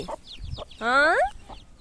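A chicken clucks a few times at close range, followed by one loud, drawn-out squawk, then a final soft cluck.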